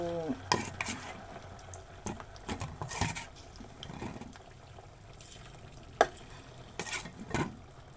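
Plain shrimp, not battered like tempura, fry in oil with a bubbling sizzle broken by clinks and scrapes of a utensil and a few sharp knocks. The sound stays close and no one speaks.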